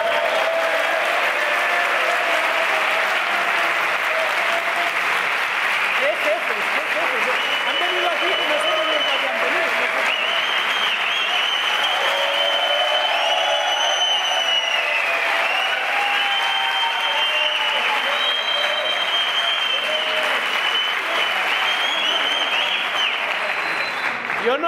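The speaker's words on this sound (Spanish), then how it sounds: "un fuerte aplauso para vosotros" A large live audience in Valencia clapping loudly and continuously for a long stretch, with cheers and shouts rising over the sustained roar of hands.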